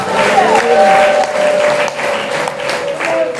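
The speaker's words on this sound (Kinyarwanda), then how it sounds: "Komera Imana amashyi menshi cyane." Congregation applauding inside a church during a Kinyarwanda sermon, a steady, fairly loud wash of clapping that swells and dips over a few seconds, with voices mixed in beneath it.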